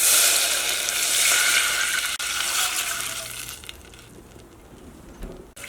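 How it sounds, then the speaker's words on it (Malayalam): Water poured into a hot pot while cooking egg biryani rice, a loud continuous rushing hiss and sizzle that gradually softens and settles over several seconds, with no talking. "അപ്പോൾ ഇനി നമ്മൾ ഇതിലേക്ക് വെള്ളം ചേർക്കാം കേട്ടോ."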